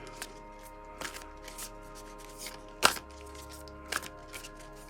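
Oracle cards are shuffled softly up close, with quiet riffling and a few sharper taps and snaps in an otherwise hushed room.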